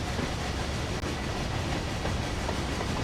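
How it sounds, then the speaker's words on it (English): A Class 31 diesel locomotive in the game Train Sim World runs along the track with a steady, dense rumble and faint rail clatter, heard alone and continuous throughout. "Listen to those run sounds. It's more than just the wheels spinning."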